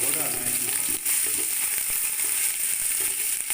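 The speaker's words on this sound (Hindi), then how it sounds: "अदरक लहसुन का पेस्ट जो बचा हुआ था वो डालना है इसमें।" Ginger garlic paste hits hot oil with browned onions in a pot, giving a loud, continuous hissing sizzle with a few faint stirring scrapes underneath.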